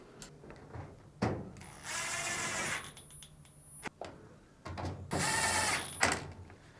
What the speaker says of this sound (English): reinstall the 2 screws